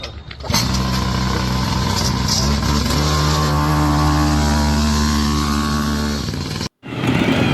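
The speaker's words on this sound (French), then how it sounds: "Voici sûrement la moto la plus petite que vous ayez jamais vue." A tiny custom-built motorcycle's small engine runs close and loud with a steady high buzzing drone, briefly cutting out near the end before starting up again.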